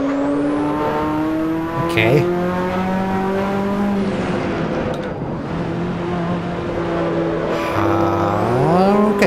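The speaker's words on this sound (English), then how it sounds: "Once again, strange engine sound" A Ferrari race car engine in the Assetto Corsa video game drones at steady high revs, then drops and climbs sharply in pitch, with a brief spoken word over it.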